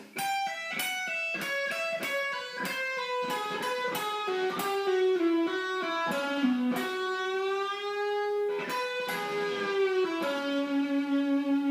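A distorted electric guitar plays a bluesy lick of quick picked notes and sustained bends, ending on a held, wavering note.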